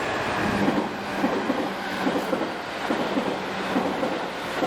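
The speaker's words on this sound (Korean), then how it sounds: "이렇게 가는 도중에 기차 건널목이 있어가지고 정말 특이한 모습이었습니다" A train passes over a railroad crossing in Kyoto, giving a steady rumble with rhythmic clatter throughout, mid-distance and fairly loud, with no voices.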